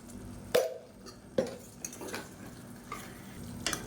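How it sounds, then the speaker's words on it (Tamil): Potatoes and peas frying in a pan for a kuzhambu, stirred with a spoon that knocks and scrapes against the pan in a few separate clanks over a soft sizzle, close by, with no talking. "இப்போ இதோடு சேர்த்து இதையும் நல்லா கிளறி விட்டுக்கலாம்"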